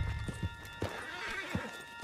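Hooves clop in an uneven rhythm while a horse whinnies faintly in the video game Red Dead Redemption 2, set against a steady ambient hum and light background noise.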